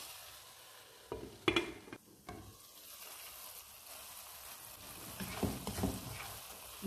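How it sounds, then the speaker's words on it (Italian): Vegetables cooking over lowered heat in a covered frying pan, a faint, muffled sizzle with a few brief clinks and knocks, quiet and close. "chiudiamo la nostra padella con un coperchio e lasciamo cuocere per 5-6"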